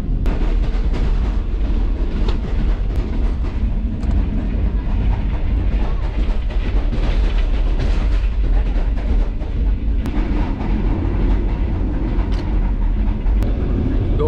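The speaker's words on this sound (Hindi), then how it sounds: "दोस्तों ट्रेन रवा दवा है कराची की जानिब, अपनी मंजिल की जानिब, और इस वक्त तकरीबन 105 की स्पीड से चल रही है" The Green Line Express heads for Karachi at about 105 km/h near Mirpur, heard from inside an economy class carriage as a loud continuous rumble and roar with faint rhythmic rail clicks.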